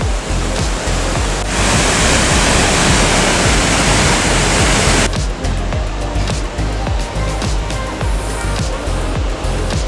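Wilson Creek Falls in British Columbia, a waterfall on a forest hiking trail, gives a steady, loud, broadband roar of falling water that fills the whole stretch without a break, its texture shifting slightly partway through.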